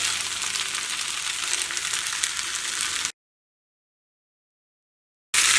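Rice frying over high heat in a non-stick pan, stirred with a wooden spoon, gives a loud, steady sizzle for about three seconds, then cuts to silence before resuming briefly.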